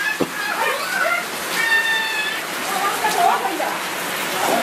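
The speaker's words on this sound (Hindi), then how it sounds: "बारिश तो बहुत तेज हो रही" Heavy rain pours steadily outside as a broad, constant hiss throughout, with people talking over it and a few brief higher tones mixed in.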